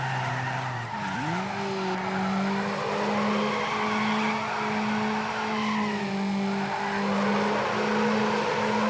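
Retro racing game on an old PC with a Pentium D 945 and GeForce2 MX100: a car drifts with a loud sustained droning engine and long tire-skid squeals, steady throughout with a pitch shift near the start.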